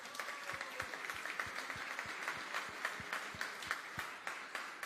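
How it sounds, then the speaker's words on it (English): Faint, distant applause from an audience for a martial arts coach, a soft continuous patter of claps with a few sharper hand strikes standing out, heard alone without talk. "So give him a big applause"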